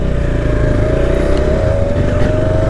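Benelli 302R 300cc motorcycle on its stock exhaust, idling steadily and close up. The engine gives a loud, even burble with no talk over it.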